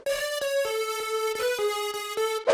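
Dry future house synth counter lead with no effects, a steady pattern of short repeated notes, even and clear, alone with no talking.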